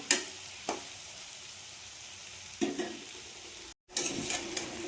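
Potatoes frying with turmeric and salt until crisp, a steady close sizzle broken by a few sharp stirring scrapes and a brief pause, no talking.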